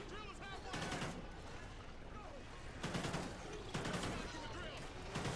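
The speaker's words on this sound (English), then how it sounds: "I'm just shooting him 5 times." Rapid bursts of gunfire in the video game Call of Duty: Ghosts Extinction, several clusters of shots in quick succession, fairly quiet, with a voice talking between the volleys.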